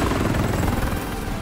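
Helicopter rotor noise in a Call of Duty: Modern Warfare battle royale match, a loud steady low-pitched chop filling the whole stretch without pause.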